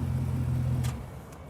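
Rally Fighter engine with twin mufflers and a live rear axle revs in a short, loud, deep burst that drops off toward the end, heard close and alone.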